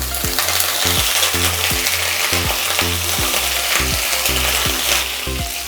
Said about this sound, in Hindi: पहले हमें गोभी को फ्राई करना है, इसे थोड़ा गरम होने दें।